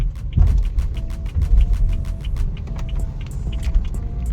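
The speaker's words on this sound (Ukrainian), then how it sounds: "зараз ми переїдемо через рейки трамвайні" A 2015 BMW 428i Gran Coupe with a 2.0 engine and automatic transmission crosses tram rails with a steady low engine rumble and a series of soft repeated clicks and thumps as the wheels cross.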